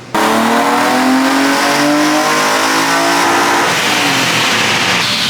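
A loud, naturally aspirated BMW engine running on E85 ethanol revs hard through its throttle bodies and climbs to a high, resonant scream at peak RPM, sustained for several seconds at close range.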